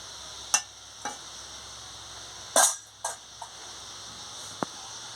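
Soybean curry being stirred in a pan, a few sparse, sharp clicks and scrapes of a spoon against metal separated by quiet gaps over a low simmering hiss.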